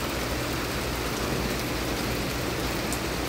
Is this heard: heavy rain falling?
yes